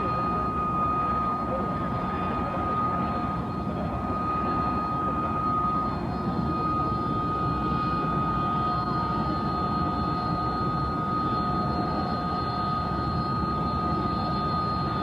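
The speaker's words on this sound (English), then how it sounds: "I'm going to work on the assumption that I can shout louder than a Harrier" A Harrier jet roars steadily overhead for the whole stretch at an air show, a broad loud rumble with a faint whine above it.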